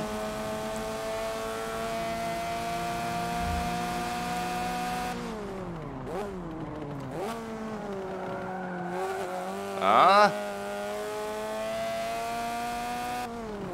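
Mercedes 190E 2.5-16 Evo 1990 race car in Forza Motorsport 7, a loud engine whine holding high revs, then dropping and climbing through gear changes, with a brief tire squeal and a short exclamation.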